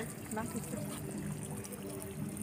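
Water pours into an artificial pond in a faint, continuous trickling splash, heard at a distance with no clear breaks.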